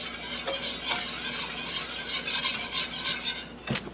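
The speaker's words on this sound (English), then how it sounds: "have to stop and give my cheese sauce a stir" Cheese sauce stirred in a pot, a continuous scraping swirl over a light bubbling hiss, with a sharp utensil knock against the pot near the end.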